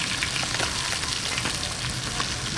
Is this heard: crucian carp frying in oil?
yes